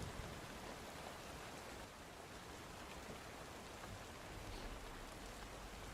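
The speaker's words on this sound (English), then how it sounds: "relaxing sounds of rain." Steady, even rain hiss played as a relaxing rain recording, a continuous soft wash of patter without breaks or voices.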